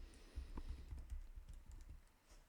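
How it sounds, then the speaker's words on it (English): Typing on a computer keyboard, a quick run of close, light key clicks and taps with slight pauses, no voice over it. "I'm typing Colts at the moment"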